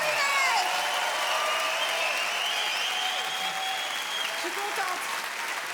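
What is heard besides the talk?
audience applause at a comedy show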